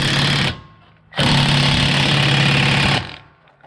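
A 1200 ft-lb impact wrench hammers at a seized suspension bolt in two loud, close bursts, a short half-second hit followed after a pause by a sustained two-second rattling barrage.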